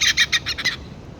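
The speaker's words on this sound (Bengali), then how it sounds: "আমরা এখন স্কাই ওয়াকে সিলোসা ফোর্টের দুটো সুন্দর হর্নবিল পাখি দেখতে পাচ্ছি আমরা" A pair of hornbills calls from the skywalk at Fort Siloso, giving a quick run of five or six loud, harsh squawks close by before the sound falls away into quiet.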